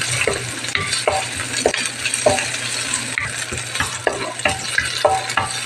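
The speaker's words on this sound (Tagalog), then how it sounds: "Igisa muna natin mabuti itong sibuyas hanggang sa lumabas na yung kanyang amoy." Onions sautéing in a pan, a loud, steady sizzle broken by regular scraping strokes of a spatula stirring them, close and clear with no voices.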